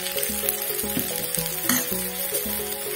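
Vrat appe batter sizzles and crackles steadily in plenty of hot oil in an appe pan, a constant close frying hiss with faint background music running beneath.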